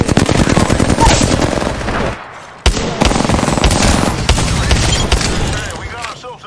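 Loud, close gunfire in an Apex Legends match on PC, with dense sustained automatic bursts and a short break before firing resumes, while voices talk over it.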